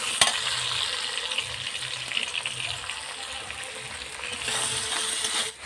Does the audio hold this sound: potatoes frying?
yes